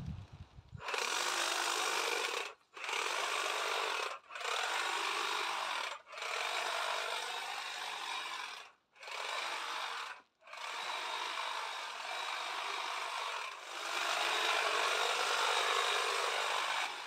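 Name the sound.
trimming evergreen Euonymus shrub in garden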